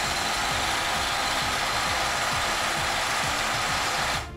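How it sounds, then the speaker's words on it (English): A water well drill boring into farmland for irrigation: a rapid mechanical clattering and grinding runs steadily for several seconds, a busy ratcheting churn of machinery, then cuts off abruptly. "This water drill makes irrigation simple by boring perfect wells with ease."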